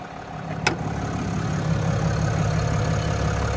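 A 6.7 liter Cummins turbo diesel in a 2024 Ram 2500 Limited Night Edition Mega Cab idles nearby with a steady low rumble, after one short sharp click near the start.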